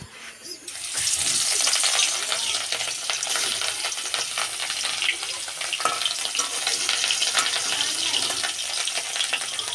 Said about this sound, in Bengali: আমি কড়াইতে গরম তেল বসে দিয়েছি সরিষার তেল সুন্দর করে মাখায় নেবো এরপরে আমি একটা একটা করে মাছ কড়াই দিয়ে দেবো